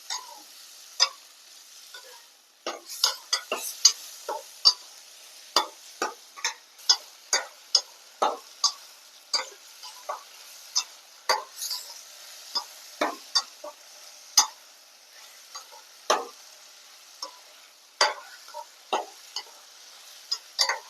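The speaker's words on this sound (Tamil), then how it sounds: "இது நல்லா தக்காளி மையிற அளவுக்கு நல்லா வதக்கிக்கலாம்" Tomatoes sauté in a pan for a spicy tamarind curry while a spoon scrapes and stirs them, giving a steady run of sharp, close clicks and taps over a faint sizzle, with no talking.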